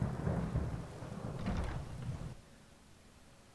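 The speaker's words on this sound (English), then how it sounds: "It's rainy. It's crappy." Thunder rolls during a rainstorm in the video game Skyrim, a deep, heavy rumble with rain hiss that fades after a couple of seconds into quieter steady rain.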